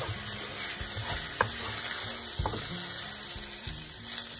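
Rice sautéing with vegetables in a pot, a steady close sizzle and frying hiss with soft stirring scrapes and a couple of brief clinks, no talking.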